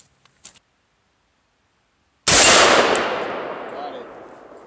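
A single rifle shot rings out after near silence, a sharp loud crack followed by a long decaying ring and echo, with faint small clicks beforehand.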